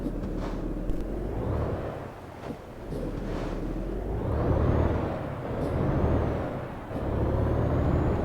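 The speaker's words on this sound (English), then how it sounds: "I just love the sound of this truck." A heavy truck engine in American Truck Simulator rumbles and shifts through gears, with bursts of air-brake hiss and rising, falling drive noise.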